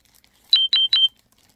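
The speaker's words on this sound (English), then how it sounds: "I'm not sure why my phone is beeping" Three short, high electronic beeps in quick, even succession, like a phone alert, fairly faint against near silence.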